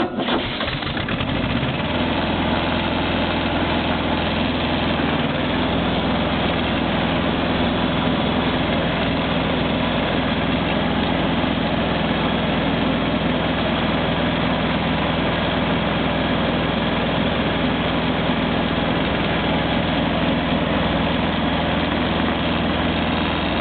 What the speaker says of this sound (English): Well, I figure I'm gonna go on a tractor ride with the Wild Chicken.